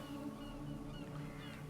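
A slowed-down bird call in the Sherlock Holmes: Crimes and Punishments video game plays as a low, faint, drawn-out moaning tone. It wavers steadily on its own, with no talking.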